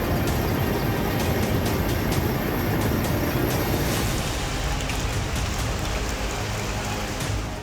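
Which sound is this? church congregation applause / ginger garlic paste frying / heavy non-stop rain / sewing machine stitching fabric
heavy non-stop rain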